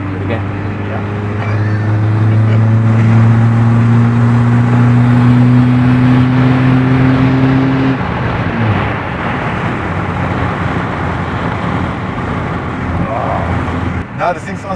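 A VW Polo TDI drives by itself, its engine droning steadily with a rising rev tone that climbs and then drops off. The car then carries on with broadband road and engine noise. There is no talk.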